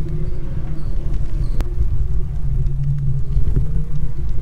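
An electric cargo bicycle with pedals is ridden outdoors at an exhibition of electric vehicles, giving a steady low rumble with a faint motor hum and an occasional sharp click.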